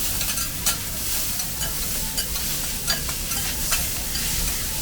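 Food being stir-fried at a market stall in Kunming, a continuous hiss of sizzling oil with occasional scraping clinks of a utensil against the pan, close and steady, with no talking.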